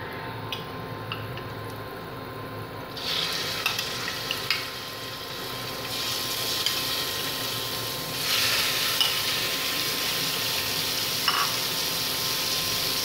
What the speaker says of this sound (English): Pan-fry natin siya ng mabuti.